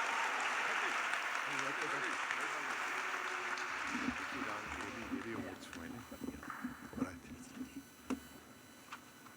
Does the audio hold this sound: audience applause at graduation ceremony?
yes